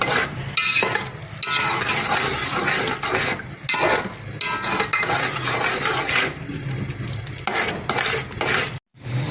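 A spoon stirs masala with tomatoes and Kashmiri red chilli in a pot, making continuous close scraping and rustling with a few brief pauses and no talking.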